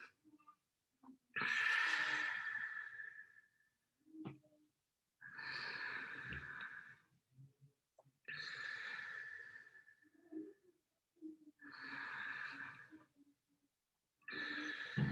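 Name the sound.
three deep breaths during guided facial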